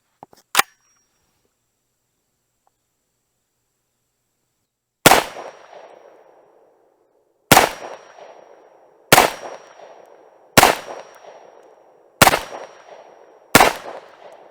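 Rifle shots from a Tommybuilt T7 fitted with an EOTech sight: seven sharp, loud single reports, one early and then six more spaced a second or two apart, each cracking hard and decaying into a short echo.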